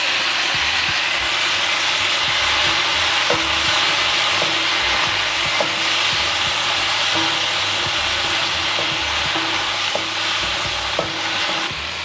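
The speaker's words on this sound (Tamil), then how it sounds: "இப்போ இதுக்குள்ள 4 தக்காளி பழத்தையே வெட்டிட்டு சேர்க்கிறேன்." Chopped tomatoes sauté in a pan with chana dal and garlic, making a constant loud sizzle with faint scraping stirs, close up and steady, with no voices.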